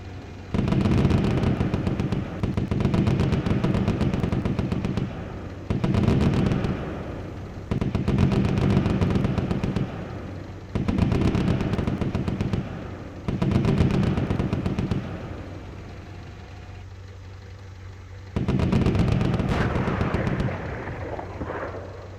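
Heavy gunfire pounds in long booming bursts about two seconds each, repeated six times with brief lulls between, loud and rumbling, with no talking.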